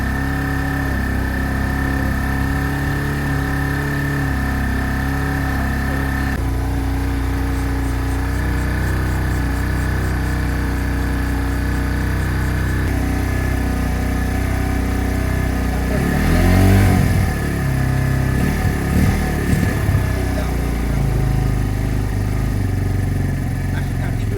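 Keeway RKV motorcycle engine, just after a carburetor clean, idles steadily for the whole stretch, with a brief rise in revs near the middle and people talking over it.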